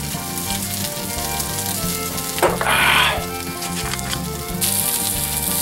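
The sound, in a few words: kielbasa frying in a small skillet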